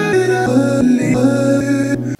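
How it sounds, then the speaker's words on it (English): Sampled musical chops play dry and centered, without auto pan: short harmonic fragments repeat in a stuttering, evenly cut rhythm, loud and up close with brief gaps between hits. "because the chops on their own just sound like this."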